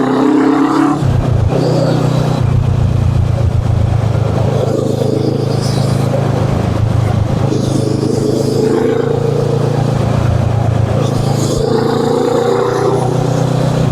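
A Kawasaki ER6N motorcycle engine revs loud and close, its steady low drone rising and swelling in pitch through a couple of throttle surges without a break.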